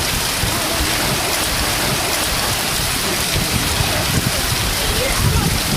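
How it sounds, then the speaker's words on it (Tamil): A heavy downpour during a storm with strong winds and lightning in Dharmapuri, Tamil Nadu, pours down as a dense, loud, unbroken roar of rain throughout. "தருமபுரியில் சூறைக்காற்று மற்றும் இடி மின்னலுடன் கனமழை பெய்ததால் வாகன ஓட்டிகள் முகப்பு விளக்கை எரிய விட்டபடி"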